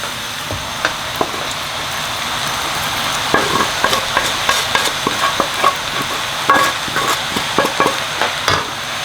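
Loud, steady sizzling of chicken and vegetables frying in a pan for chow mein, with repeated scraping and clacking as a utensil stirs and turns the pieces.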